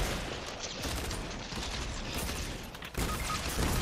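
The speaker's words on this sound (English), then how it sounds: "Is that an AI shooting from over there?" Gunfire from an AI enemy in Fortnite, a dense, crackling burst of shots heard at a distance, continuous and fairly even in level, with no talking over it.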